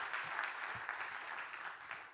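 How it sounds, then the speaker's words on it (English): An audience at a Radiodays Europe 2024 conference session gives a soft round of applause, heard as an even, continuous patter of many hands at low level, some distance away. "Round of applause for Dina."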